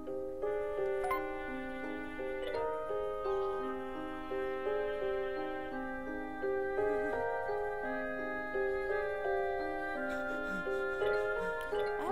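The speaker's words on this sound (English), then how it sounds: "And I got all these bells." Bell tones in a Halloween video game chime in a steady melodic sequence of ringing, overlapping notes that continue throughout without speech.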